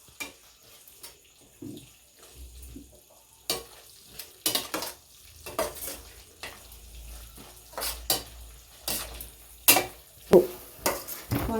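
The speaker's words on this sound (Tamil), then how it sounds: "அரைச்சி ஊற்றி நல்லா வதக்கணும்." A ground tomato and onion paste for kara kuzhambu is sautéed in a pan, with a soft sizzle under intermittent stirring scrapes and clanks of a spoon against the pot, growing busier toward the end, with no voices.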